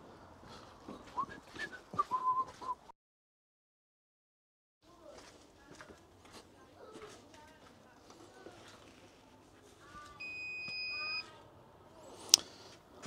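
A GivEnergy EV charger restarting after its power is cut at the consumer unit, giving a short steady electronic beep tone near the end, with someone speaking before and around it in a quiet room.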